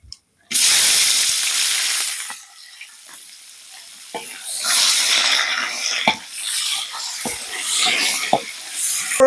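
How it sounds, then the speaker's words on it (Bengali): Chopped onion hits hot oil already seasoned with bay leaf, dried red chilli and white cumin, bursting into a loud sizzle that settles into steady frying hiss with a few sharp spatula taps; no talking. "এবার দিয়ে দেবো কুচনো পেঁয়াজটা"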